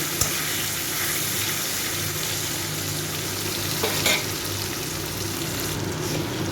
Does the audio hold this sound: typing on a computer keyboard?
no